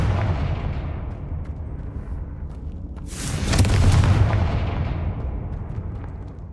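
A Confringo fire spell bursts in the video game Hogwarts Legacy, a loud, broad explosive blast about halfway through that rolls out and fades over a steady low rumble of game ambience.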